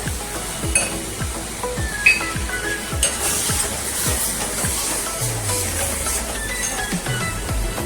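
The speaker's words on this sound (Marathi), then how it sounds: "हळद पण परतून घेऊया कारण हळद परतली ना की तिचा रंग खुलून येतो" Turmeric frying in a pan for a dry coastal-style prawn dish, giving a steady sizzle with stirring scrapes and occasional clinks of a utensil against the pan, close and continuous.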